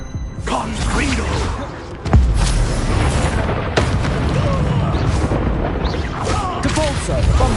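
Confringo, an explosive fire spell cast in Hogwarts Legacy, lands as deep booming blasts within dense, continuous combat noise, with a heavy impact hitting at about two seconds and a sustained roar after it.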